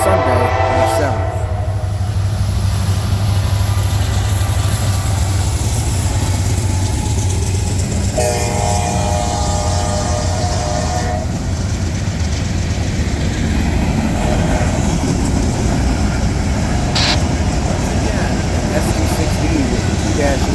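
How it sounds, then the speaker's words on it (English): A CSX freight train, a 16R led by an SD60 locomotive, rounds a bend in New York State on a Sunday. The steady rolling rumble of the cars carries throughout, and a horn sounds briefly partway through. "Here is another 16R rounding the bend."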